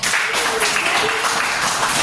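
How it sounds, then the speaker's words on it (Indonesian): Students in a classroom applaud a classmate during a science lesson on blood circulation, a dense, loud burst of clapping that holds steady throughout. "Yes, tepuk tangan buat Timothy"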